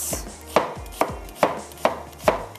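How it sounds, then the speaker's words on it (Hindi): Onion being sliced with a knife on a cutting board for a Kolhapuri egg gravy, five sharp, evenly spaced chops close up with quiet pauses between them and no talking. "थोड़ा सा प्याज को कर लेते हैं स्लाइस"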